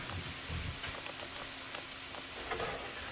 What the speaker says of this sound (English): just dump everything else in and we're going to saute that down